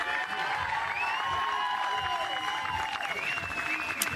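A softball crowd at an AUSL game between the Talons and the Spark claps and cheers continuously, with whoops and whistles rising over steady applause.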